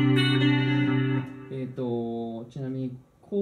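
Clean electric guitar notes through a Zoom G1 Four multi-effects pedal, amp simulator off, ring out with a shimmering chorus and reverb tail, a sustained chord followed by a few shorter plucked notes.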